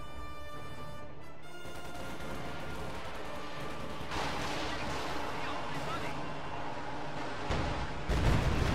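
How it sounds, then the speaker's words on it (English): Dense, continuous gunfire and explosions rumble through a World War II video game battle, with an MG42 machine gun firing amid the din and a sharp burst near the end. "Oh, there goes the MG42."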